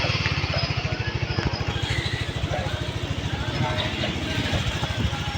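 A motorcycle engine putters with a fast, even low throb, fairly close and steady, as a rider heads home with passengers.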